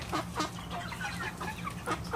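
Eight-week-old Cornish cross chickens waiting to be fed cluck steadily in repeated close, overlapping calls over a low background hum.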